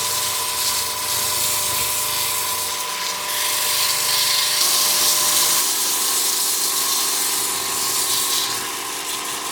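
Steady, loud abrasive grinding with a motor whine runs without a break as a power sander works against a brick.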